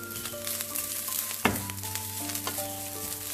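Curry leaves sizzle in hot oil for Kerala-style kadala curry, a steady close frying crackle with a sharp spatter burst as they hit the pan and light stirring scrapes.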